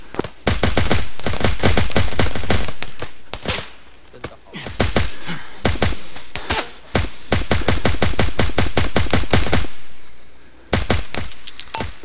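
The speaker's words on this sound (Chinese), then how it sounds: "收到，那个开火。" Long bursts of automatic gunfire in the ArmA military game, loud and rapid, with a few short pauses between volleys and scattered single shots, and no talk over it.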